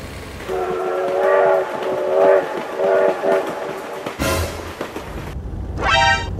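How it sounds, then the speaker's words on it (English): A train rushes past a vehicle transporting cars on a flatbed trailer, its horn blaring in sustained harmonic blasts, followed by a loud rumbling whoosh of the passing rail cars and a final rising horn or whistle near the end. "Oh my god, train!"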